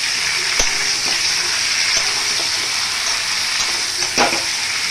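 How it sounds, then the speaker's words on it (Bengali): Chicken pakora deep frying a second time in hot oil, a steady loud sizzle and bubbling with a few sharp crackles and pops, close up. "দেখুন একবার ভাজা হয়ে গেছে, সেহেতু আর একবার আমি ভাজার জন্য দিয়ে দিয়েছি।"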